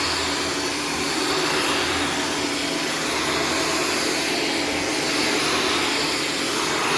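A Shark Stratos vacuum cleaner runs on carpet with a loud, steady motor whine and airflow roar held throughout, no voices.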